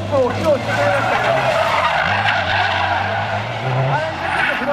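A rally car fitted with bonnet-mounted light pods skids and drives during an Odaiba demo run, with loud, steady engine roar and tyre scrubbing throughout, plus faint crowd or announcer voices underneath.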